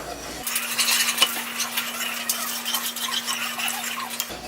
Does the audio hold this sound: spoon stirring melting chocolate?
yes